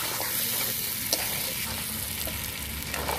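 Chicken korma sizzles steadily in a pan as oil separates, a continuous loud fry with occasional scrapes of stirring, no talk.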